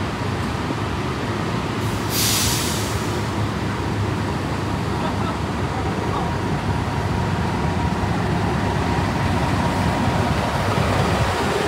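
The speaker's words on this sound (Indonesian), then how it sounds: "kereta api Joglo Semarkerto dari stasiun Yogyakarta tujuan stasiun" Joglo Semarkerto passenger train, running as a Wijaya Kusuma trainset, rolling into Maos station: a steady low rumble of wheels and carriages, with a short hiss partway through and some background talk.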